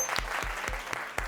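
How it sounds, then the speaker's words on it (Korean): High school students applauding a winning team in a classroom, heard as a short run of about five crisp, evenly spaced claps in rhythm over a quiet room. "우리 2조한테 축하의 박수 한번 해주세요."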